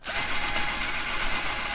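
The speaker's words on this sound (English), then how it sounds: "Drill that hole a bit bigger." A power drill whirs continuously while enlarging a hole beneath the engine of a Holden HK car, a short close burst of dense high-pitched grinding.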